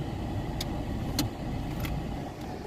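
A car engine runs steadily at low volume as the vehicle gets under way, with a few faint clicks or taps on top and no talking.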